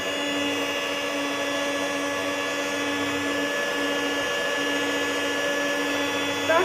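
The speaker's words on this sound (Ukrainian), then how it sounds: "замішуємо м'яке тісто, яке повинно бути ніжної еластичної консистенції" A mixing machine working butter and flour into soft pastry dough, a steady mechanical whine and hum with a constant motor tone, moderately loud and unbroken throughout.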